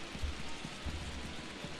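Steady rain falling over a night ballpark in the Bay Area in MLB The Show 22, a faint, even hiss with soft low thumps and no voices.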